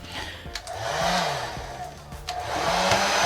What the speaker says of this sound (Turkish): Şimdi saç kurutma makinesi var. Şöyle yaklaşık 1200 watt gücünde bunu takıyorum prize.